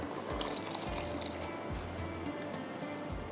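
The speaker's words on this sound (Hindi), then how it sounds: "इसको भी थोड़ी दाल पक रही है तो इसके अंदर पानी डाल दे।" Water is poured into a pot of cooking masoor lentils with a soft, steady trickle and splash, fairly quiet and without speech.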